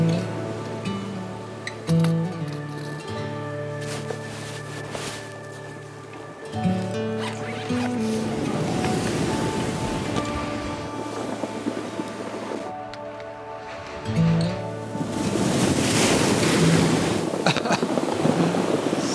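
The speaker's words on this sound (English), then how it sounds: "every now and again you get a set of waves come in and they kind of dump on the shoreline" Ocean waves break and dump onto a beach shoreline in repeated surges of rushing surf, loudest toward the end, with wind buffeting a nearby microphone.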